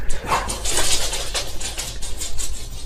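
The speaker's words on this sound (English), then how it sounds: "My dogs, the doorbell rang, so of course they have to tell the whole neighborhood." Several household dogs bark loudly and repeatedly in a fast, insistent volley, set off by a doorbell ringing, close by and filling the room.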